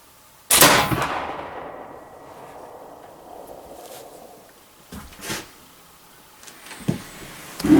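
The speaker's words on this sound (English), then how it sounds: "First shot ever from the bench with this rifle." A Kibler Woodsrunner muzzleloader rifle loaded with 60 grains of 3F powder fires a single loud, close shot from a shooting bench, with a sharp crack followed by a long rumbling decay and a few faint knocks and bumps afterward.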